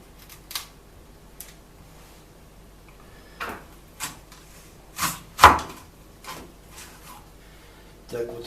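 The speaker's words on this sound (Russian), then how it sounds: "Вот так вот вырезаем сердцевинку." A knife cuts the core out of apples in a kitchen, giving a series of sharp, separate clicks and crunchy cuts, irregularly spaced, close up, with quiet talk around them.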